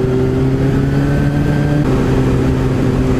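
A Suzuki 750 GSR motorcycle rides along a road, its engine humming loud and steady close by with a strong low drone and a slight shift in pitch partway through.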